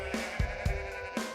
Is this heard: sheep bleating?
yes